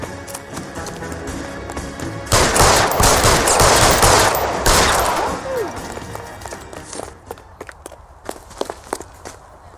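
Gunfire erupts in L.A. Noire, a loud sustained burst of rapid shots lasting a few seconds mid-clip, then tapering into scattered sharp cracks and footsteps.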